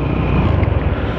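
Strong wind buffets the microphone on an outdoor outing near a new bridge, a loud, continuous rumbling roar with gusty fluctuations throughout.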